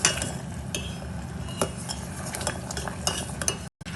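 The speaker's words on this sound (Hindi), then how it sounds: "इसको अच्छे से चलाते रहें।" A spoon stirs sugar syrup as it boils for jalebi, making a steady scraping swirl with a soft bubbling hiss underneath. There is an occasional clink of metal against the pot. It sounds close and continuous, with a brief gap near the end.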